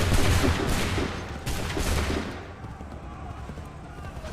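Musket volley in the Assassin's Creed 3 video game, a dense burst of overlapping gunfire that rolls into a fading rumble, loud and close, with shouted commands from game voices.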